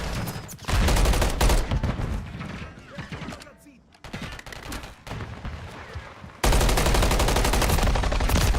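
Gunfire from Modern Warfare 3 comes in dense automatic bursts, loud and near, with a brief lull and then a heavier stretch of rapid fire, under occasional talk.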